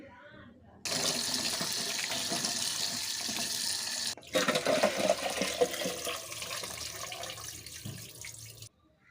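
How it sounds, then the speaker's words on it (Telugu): Nalleru (veldt grape) stems washed under a running tap, a steady splashing water stream that starts abruptly, runs for about eight seconds with a brief break midway, then cuts off. "మనం వీటిని అయితే మనం శుభ్రంగా వాష్ చేసుకోవాలి"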